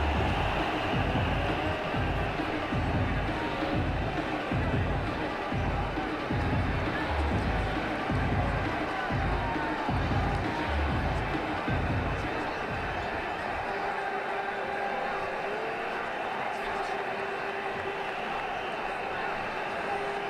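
A stadium crowd in the Ashes Cricket 2009 game, India against South Africa, cheers and roars loudly for several seconds before easing into a quieter murmur, with faint commentary mixed in.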